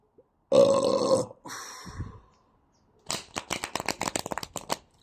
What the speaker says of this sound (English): That burp was cleansing for you as well